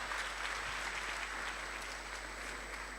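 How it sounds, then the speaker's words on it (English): Audience applause at a university management and law research day, following a presentation: steady, dense clapping from a seated crowd, continuous for the whole stretch at even loudness, with no voices over it. "a round of applause once again"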